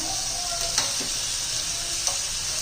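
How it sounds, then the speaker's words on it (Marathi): Spice masala for banana katori chaat is stirred and mixed in a hot pan, a constant close sizzle with a couple of soft spoon scrapes and no voices. "मिक्स करून घ्यायचं आपला सगळा मसाला"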